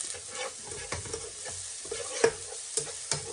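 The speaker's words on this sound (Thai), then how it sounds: "จากนั้นก็ผัดพริกให้หอมเลยครับ" Pounded chilies stir-fry in a wok over low-to-medium heat for pad kaprao with crispy pork, producing a soft, steady sizzle broken by repeated quick scraping and stirring strokes, close and fairly quiet.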